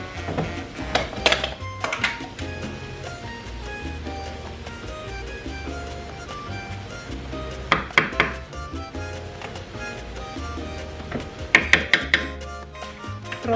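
Boiled plantains are mashed in a kitchen, making irregular thumps and clatters of a utensil against the bowl, with sharper clusters of knocks near the start, middle and end.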